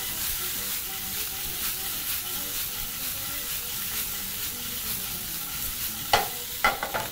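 Fried pork sizzles steadily in a pan with a constant hiss, and near the end a few sharper clatters come as the meat is tossed; no one speaks.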